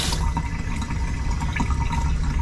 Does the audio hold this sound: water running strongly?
yes